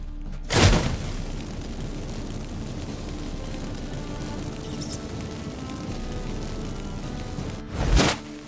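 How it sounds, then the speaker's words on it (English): Magic fireworks set off by lit incense in The Witcher 3 game: two loud, sharp booming bursts, one near the start and one near the end, with a steady rumbling ambient bed between them. "Get ready for some magic fireworks."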